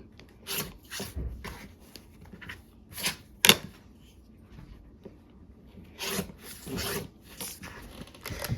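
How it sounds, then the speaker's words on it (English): A series of short scraping cuts through fabric with a rotary cutter, each a brief crisp swipe, with one sharper click in the middle; quiet and close, no talking. "I'm using my rotary cutter, but you could use your scissors."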